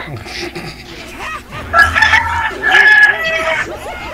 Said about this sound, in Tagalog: Kanina pa ho yan tilaok ng tilaok, oh.